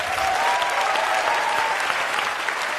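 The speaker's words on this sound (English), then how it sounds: "Big applause." Audience at a TED talk breaks into applause after the talk ends, a dense, even burst of clapping from a large hall, loud and sustained.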